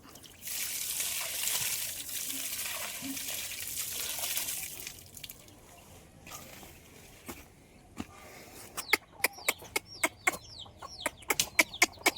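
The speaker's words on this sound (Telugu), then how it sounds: "మొక్క వేయంగానే నీళ్ళు కూడా పోయాల" Water splashes and trickles steadily onto soil around a newly planted henna sapling for several seconds, then stops, followed by a run of sharp, scattered clicks and taps.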